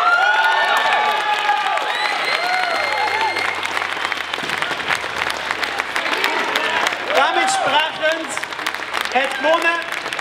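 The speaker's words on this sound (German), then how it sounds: "Applaus auf Platz Nummer 2," Audience applause and cheering at a coffee festival prize announcement, sustained clapping with whoops and shouts from a lively crowd, while a host talks over it.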